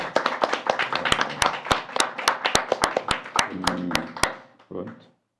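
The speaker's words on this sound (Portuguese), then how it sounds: "uma salva de palmas e um grande agradecimento ao professor Piqué" An audience claps in thanks to Professor Piqué at a Portuguese and Spanish language event in Macau, with sharp, fairly close hand claps fading out near the end amid light voices.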